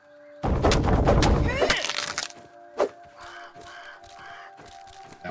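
A loud, sharp burst of crackling and shrieking bird-like calls erupts in the video game Grounded, then gives way to fainter repeated calls and a tonal hum under occasional talk.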